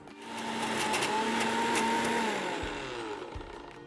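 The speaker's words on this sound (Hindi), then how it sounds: "मेरा ये Bajaj evoke mixer grinder comes with military grade jars जो डेंट्स एंड क्रैक्स प्रूफ है" A 1000-watt Bajaj Evoq mixer grinder whirs loudly while grinding almonds, its motor whine holding steady and then slowing slightly before a couple of clunks at the end, with no one talking.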